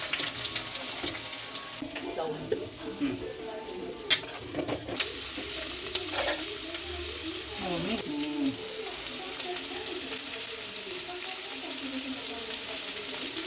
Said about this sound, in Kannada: ಫಸ್ಟ್ ಬಾಣಲಿ ಇಟ್ಟಿದ್ದೀನಿ ಸ್ವಲ್ಪ ಮೆಣಸಿಕಾಯಿ ಫ್ರೈ ಮಾಡ್ತಾ ಇದ್ದೀನಿ ಅದಾದಮೇಲೆ ಈರುಳ್ಳಿ ಹಾಕೊತಾ ಇದ್ದೀನಿ